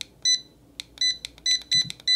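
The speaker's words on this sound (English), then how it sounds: "Switch on the sound. You can hear it beep like that." An Eyoyo 1D Bluetooth barcode scanner beeps loudly and repeatedly, with a sharp high-pitched tone every quarter to half second over faint room noise.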